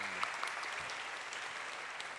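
Audience applause fills a hall in a brief, steady burst of many hands clapping together, the sound even and sustained with no pauses.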